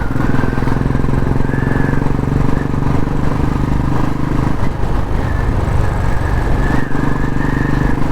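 A motorcycle cruises along a small country road between farm fields, the engine loud and close with a steady droning hum and slight shifts in pitch as it rides on.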